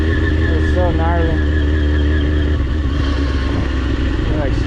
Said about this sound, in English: We're actually gonna ride up and over this big old bump in the road